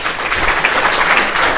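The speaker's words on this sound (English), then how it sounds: "So round of applause." Brief burst of audience applause at an entrepreneurship resource night panel, thanking panelists; a short, even wash of clapping from a room of people.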